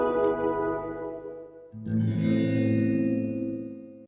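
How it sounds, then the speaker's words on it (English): A sustained synth chord played through reverb with the mix raised, a rich harmonic tone that breaks off and returns with a lower voicing, its washy tail lingering and fading toward the end, no talking. "I can crank that sound up a little bit, so I increased the reverb, in this case the mix parameter value"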